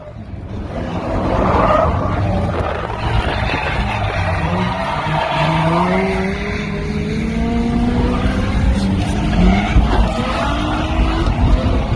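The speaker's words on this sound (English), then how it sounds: "I took it to Archerfield last week, drifted a little bit." A Ford AU Falcon drifting at Archerfield, its engine revving loud and continuous with rising and falling pitch, tires skidding and squealing through the slides with no talk over it.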